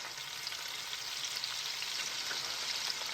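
Beef for a red chili stew searing in a hot pan, a steady dense frying hiss that holds evenly throughout, close but moderately quiet, with no talking.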